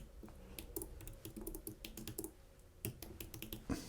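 Text is typed on a computer keyboard while working in InDesign, a quick, steady run of soft, close key clicks with short pauses, heard alone without talk.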